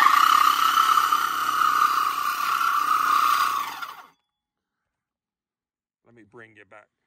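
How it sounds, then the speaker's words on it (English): A power drill bores through a piece of pipe while a deep well pump is mounted in a spring water storage tank. It runs loud and steady for about four seconds, then stops, and a brief voice follows after silence. "we're gonna take this thing right here and drill right through that piece of pipe."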